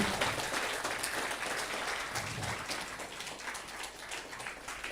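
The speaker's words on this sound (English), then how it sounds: "want to call on you to give Mr. Vincent Mack a resounding round of applause." A large crowd applauds steadily, dense clapping sustained throughout without pause.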